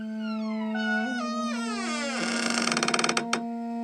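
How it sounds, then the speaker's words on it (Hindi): A door creaks open slowly with a long, rising, groaning squeal that breaks into rapid rattling clicks near the end. "दरवाजे के चरमराने की आवाज"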